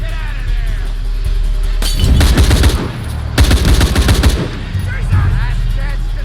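Rapid gunfire bursts from a firefight in the PC game Shadow of the Tomb Raider, two loud sustained volleys of automatic shots with shattering impacts, set against game ambience and a faint voice.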